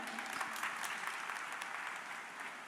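An audience claps for a music band at an anti-drug awareness event, a dense patter of many hands heard at moderate distance, steady and fairly soft.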